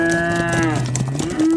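A single cow moos loud and close in a long, drawn-out bellow that bends slightly in pitch before trailing off, with no talking.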